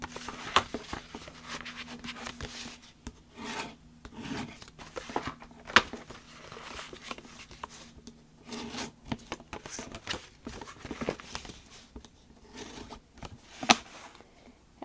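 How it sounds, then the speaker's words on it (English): Paper being scored on a WRMK envelope punch board, heard as close, quiet scraping and rubbing strokes mixed with light clicks and paper handling over about fifteen seconds, with no talking. "So now all I have to do is score my paper."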